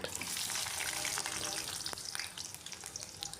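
Steady, dense sizzling of sugar and five-spice frying in hot mustard oil, crackling continuously with occasional stirring, fading slightly toward the end.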